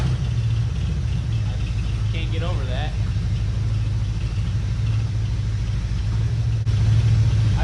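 Idling engine of a 1967 Camaro barn find with a bad exhaust leak toward the rear, a steady low rumble running throughout while someone talks over it.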